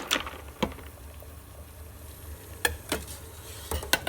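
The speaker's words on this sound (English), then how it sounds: "move back into the boiling water." Water bubbles and hisses steadily, broken by a few sharp clinks and stirring knocks close by.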